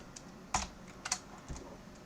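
Several sharp clicks from a computer keyboard being typed on, close and fairly quiet, a few separate key presses spaced irregularly with no voice over them.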